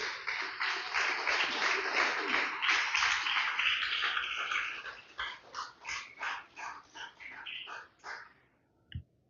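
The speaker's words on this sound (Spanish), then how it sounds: "Den un fuerte aplauso al Señor" A church congregation breaks into loud applause during a Spanish-language sermon, the dense clapping thinning after a few seconds into scattered, rhythmic claps before fading to quiet, with a short knock near the end.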